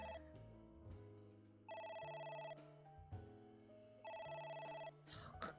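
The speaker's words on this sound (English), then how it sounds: "God, they're calling again. It's ringing again." A telephone in a video game rings twice in short electronic bursts, with quieter game tones between and around the rings.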